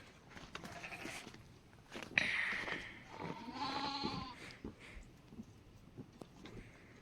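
Goats on a village farm in India bleat several times in wavering cries, one loud and close, the others softer, amid rustling and farmyard noise.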